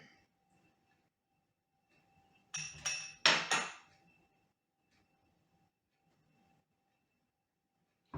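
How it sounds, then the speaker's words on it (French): Small ramekins clatter as they are handled and filled with caramel dessert cream in a home kitchen, giving a short cluster of four or five clinks and knocks close by, with quiet around them. "On va remplir les petits ramequins."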